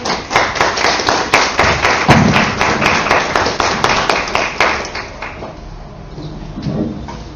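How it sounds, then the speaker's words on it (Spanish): Steady, fairly loud applause with rhythmic clapping from an audience at the opening of an event, welcoming Dr. Ricardo Corrales, holding for about five seconds before thinning into a few scattered claps. "Un fuerte aplauso para el doctor Ricardo Corrales."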